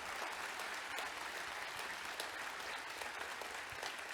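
Crowd applauding at the opening of the Sabantuy 2022 festival in Kazan, a continuous wash of outdoor clapping from a large audience, fairly distant and even throughout.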